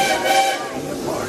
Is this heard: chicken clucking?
no